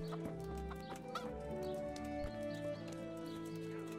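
Chickens cluck close by in the medieval video game Kingdom Come: Deliverance, short bursts over a steady bed of background music and ambient tones, with hoof-like clopping mixed in.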